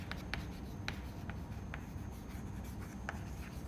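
Chalk taps and scratches on a lecture board in a quiet room as an equation is written, a series of short, crisp strokes at an irregular pace.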